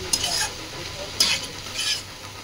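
Water spinach greens stir-fried in hilsa fish oil, with a steady sizzle and a few sharp scraping stirs of a spatula in the pan, close and alone.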